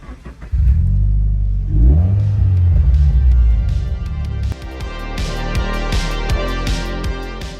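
A Toyota 86 sports car accelerates away near a car show in Brisbane, its engine revving loud and close with rising pitch, then settling into a steady, pulsing drone as it drives off.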